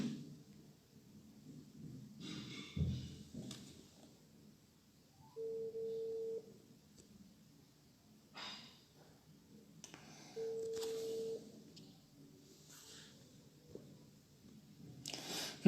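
Two short, steady telephone tones sound at a regular interval while a phone call connects, against a quiet background with faint clicks and handling noise.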